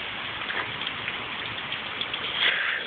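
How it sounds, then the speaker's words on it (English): Steady rain pours down outside in bad weather, a dense continuous patter and hiss on surfaces that swells slightly near the end, with no voices. "with the rain background"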